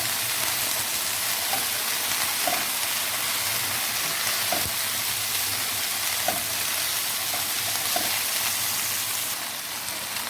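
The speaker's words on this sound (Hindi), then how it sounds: "इनको भी मैंने कट करके इसमें डाल दिया और इनको हम भुनाई जारी रखेंगे।" Cut vegetables frying in an unspiced pan for Chinese biryani, a steady broadband sizzle with a few soft stirring taps scattered through, close and alone without talk.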